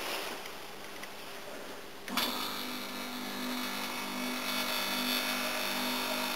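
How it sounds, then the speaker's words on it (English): An air conditioner compressor kicks on abruptly partway through with a sharp start, then runs as a steady, fairly loud hum with a low drone, while no fan noise joins it. "the compressor works, but no fan"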